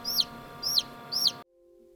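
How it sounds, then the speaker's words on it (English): A newly hatched chick peeps three times in an evenly spaced series of sharp, high, close calls, then stops. "This little chick has emerged from his egg as the very first chick of the year."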